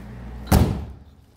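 A rusty Volkswagen Beetle with a detaching frame rail has its door lifted, producing a single heavy metallic thud and clunk that fades quickly against a low background hum.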